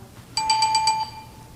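A quiz game buzzer sounding once as a bright electronic ring with a quick pulsing warble, lasting under a second before stopping abruptly, alone over a quiet background.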